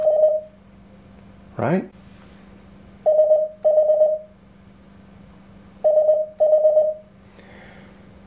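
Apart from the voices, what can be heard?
Morse code tones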